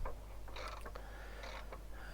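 A wrench tightens bolts on the track motor of a Poclain 90 CK excavator, giving faint, scattered metallic clicks and scrapes over a constant low hum, with no talk.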